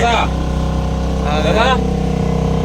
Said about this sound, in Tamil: இப்போ வந்து போட்டில் போகிறோம். கிளம்பியாச்சு.